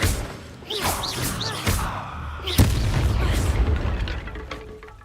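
An Incendio fire spell is cast in the Hogwarts Legacy video game, producing a burst of booming, crackling blasts and whooshes, with a punchy hit near the middle and brief voices among the effects.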